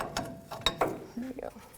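A 22mm wrench works the ball joint nut loose on the front suspension of a 1997-2004 Dodge Dakota, giving a few faint metallic clicks and a brief grinding ratchet in under two seconds.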